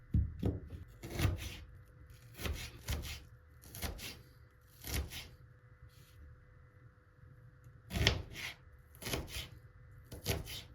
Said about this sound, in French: Je commence déjà par couper l'ail et l'oignon. J'émince en tout petits carrés quoi,